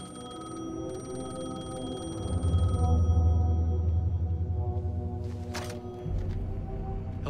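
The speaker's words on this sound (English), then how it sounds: "The payphone was ringing." A payphone in the video game Alan Wake 2 rings with a steady electronic trill over a low humming background, loud and close, with a brief rustle near the end.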